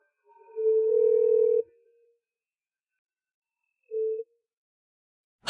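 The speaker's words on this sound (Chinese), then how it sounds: "哎呀，高大哥，今天怎么想起给我打电话了？" Ringback tone of an outgoing phone call: a clean, steady beep lasting about a second, a long silent gap, then the next beep, heard alone without any voices.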